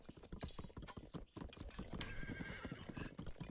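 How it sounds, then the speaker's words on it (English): Horses clip-clop and whinny in the real-time strategy game 0 A.D. during a 1v1 Macedonian mirror match, with steady overlapping hoofbeats and a neigh under busy battle noise. "We're seeing horses come out"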